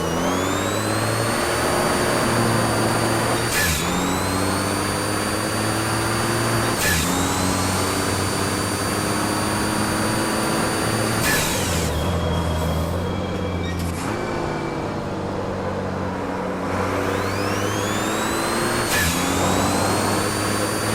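Truck engine with a turbo revving up repeatedly, each rise in pitch capped by a brief whoosh or cutoff before climbing again, loud and continuous throughout.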